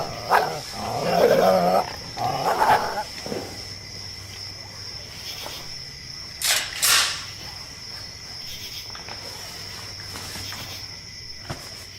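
Several coyotes circling a campsite at night, with loud barking yips and calls in the first few seconds, then quieter creaks and scattered short bursts against a faint steady background.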